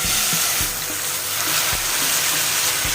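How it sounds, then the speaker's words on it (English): Chicken pieces fry in vegetable oil in a hot flat pan with a loud, steady sizzle, broken by a few soft knocks and clinks. "I am going to add the chicken pieces."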